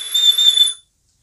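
A Genesis RDTA vape atomizer whistling from its airflow: a single steady, high, thin whistle lasting under a second, close and fairly loud, then cutting off to silence.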